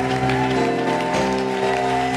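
Church congregation applauding and acclaiming the Lord, dense steady clapping and crowd noise, loud and close, with a sustained musical tone underneath.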